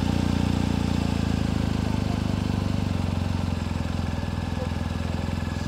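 A 2023 BMW GS Adventure motorcycle idles nearby while its suspension rises, giving a loud, steady low engine throb with a regular pulsing beat throughout.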